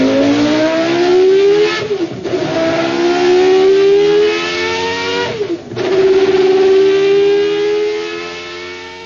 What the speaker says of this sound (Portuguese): Solta pra gente esse ronco desse carro,